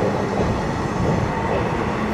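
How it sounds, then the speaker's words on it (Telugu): A Macherla passenger train on a line near Guntur passes close by as a steady, loud rumble of wheels and carriages filling the whole clip, with no voices. "ఏం ట్రైన్ ఇది? మాచర్ల ట్రైన్ ఇదా?"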